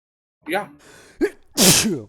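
A person sneezes loudly twice, close by, with a short gasping breath between, followed by a brief spoken word.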